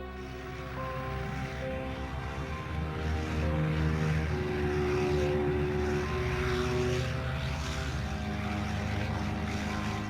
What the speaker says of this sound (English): Admiral Byrd's aircraft flew 500 feet above the geographic South Pole.